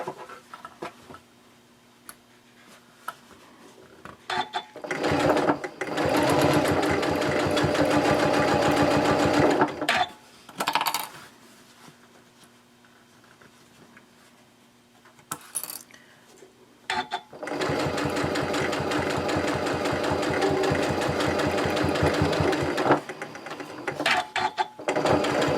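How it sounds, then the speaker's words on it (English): A sewing machine stitches lining fabric onto a zipper for a pouch, running in two long loud bursts of rapid mechanical whirring, separated by short pauses with small clicks and handling noises. "Now you can go ahead and sew in the other piece of lining to the other side of the zipper."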